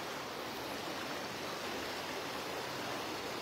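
Flash-flood water rushing down the Mae Ai river behind a temple in Ban Hong, Chiang Mai, a steady broadband roar without pauses, fairly distant and even, with no voices.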